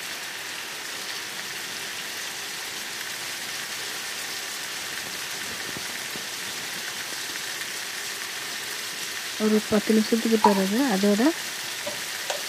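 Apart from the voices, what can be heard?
chicken frying in oil on an infrared electric cooker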